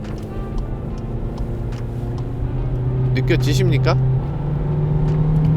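A Volkswagen Jetta sedan with an 8-speed automatic gearbox drives along, its engine giving a steady, close hum that grows slightly louder partway through, while someone talks over it.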